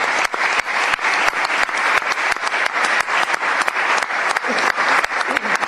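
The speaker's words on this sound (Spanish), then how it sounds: "pido un aplauso por lo que son los jugadores del club" Audience applause for the club's volleyball players at a presentation event in Utrera for the promotion phase to Superliga 2, heard as dense, steady clapping from a large crowd that carries on throughout with no voices over it.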